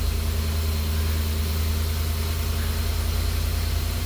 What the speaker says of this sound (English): Let it idle a little bit and it's gonna be okay.